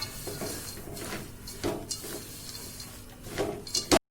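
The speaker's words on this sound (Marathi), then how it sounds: "छान असं मिक्स करून घ्यायचंय पाकामध्ये।" Sesame seeds and peanuts being stirred into sticky jaggery syrup in a pan for til ladoo, with soft scraping and clinking of a spoon against the pan in irregular strokes, close and fairly quiet.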